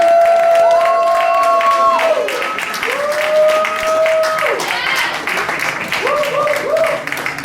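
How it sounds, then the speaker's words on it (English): An awards-show audience cheers and claps loudly and continuously for the 2019 Frequency of the Year Award winner, a dense roar of applause with whoops rising above it. "Make some noise for the 2019 Frequency of the Year Award, Harmony Samuels."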